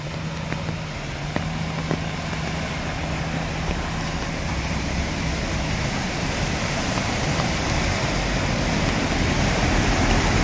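Heavy monsoon rain and rushing floodwater fill a street in Baramati with a steady, dense roar that holds constant throughout, with a faint engine hum early on from small vehicles passing through the water.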